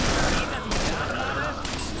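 Bursts of rapid gunfire from the video game Killing Floor, loud and dense, with a few sharp breaks between volleys.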